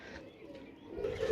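A pigeon offered for sale coos softly at a distance, one or two faint low calls rising near the end over quiet background noise.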